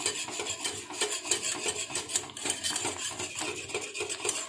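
Millet (kambu) porridge being stirred in a pot, a steady run of scraping and rubbing strokes from the spoon against the pot, close and continuous with no talk.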